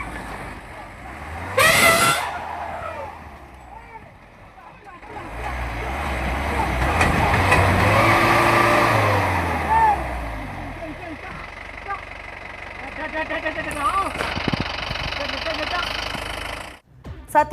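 A tractor engine drones and revs while chasing a wild elephant out of a farm field near a forest reserve, rising and falling over several seconds, with a horn blast and people's voices nearby.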